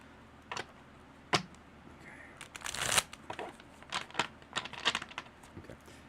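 Thick, chunky tarot cards being shuffled by hand, close up, with irregular riffling bursts and soft slaps over several seconds and no talking.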